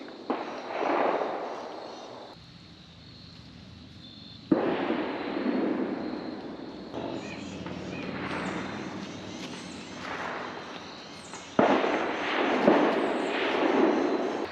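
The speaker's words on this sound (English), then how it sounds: "it must have just opened because now it's non-stop gunfire" Repeated bursts of gunfire crackle from a nearby firing range, arriving in rapid clusters with brief lulls, loud and echoing across open air along a wooded trail in Patapsco Valley State Park.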